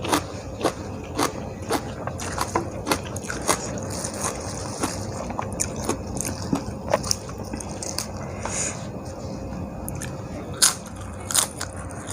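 Crunchy squid being bitten and chewed up close, a steady run of sharp crackling crunches and wet mouth sounds, with no talking.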